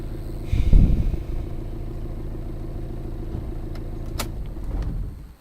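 A car engine in the This Is the Police video game cranks and catches with a brief loud rumble, then settles into a steady low idle hum, with a faint click or jingle near the end.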